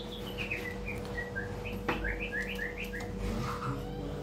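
White-rumped shama (murai batu) calling with a run of clear, quick whistled chirps and trills repeated in short bursts, fairly close over a low steady background hum.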